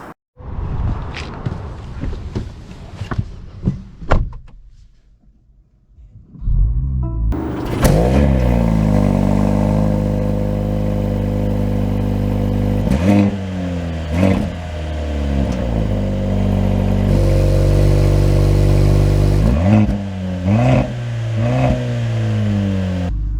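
A 2023 Mercedes-AMG C43 engine starts and pulls away after a few quiet clicks and footsteps, then a steady loud drone rises and falls through several gear changes as the car drives, with no talk.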